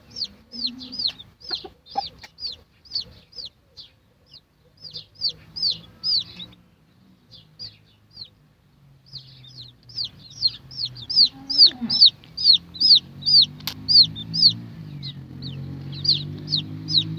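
A broody hen clucks softly and repeatedly as her newly hatched chicks peep in a busy, high twittering chorus, close by with low farmyard rumbling underneath.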